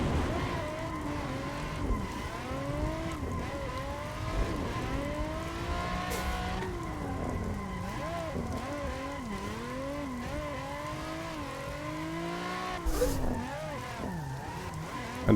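Nissan 350Z engine droning under load with sweeping pitch changes as revs rise and fall, tires squealing intermittently through cornering, steady and close throughout without talk.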